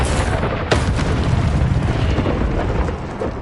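An Incendio fire spell cast in Hogwarts Legacy lands as a deep booming burst with a sharp onset, then a sustained rumbling roar that slowly fades over a few seconds.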